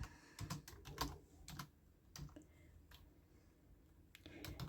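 Computer keyboard typing while entering a company name and street address into a soap label design, heard as irregular clusters of light clicks alone at close range, pausing briefly partway through.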